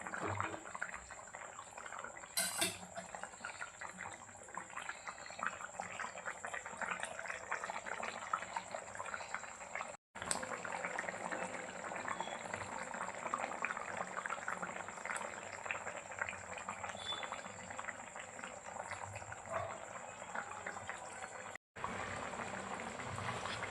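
Khandesh-style chicken thecha simmers in an open pot, giving a steady, close bubbling and gurgling that runs evenly throughout with two brief dropouts and no talk.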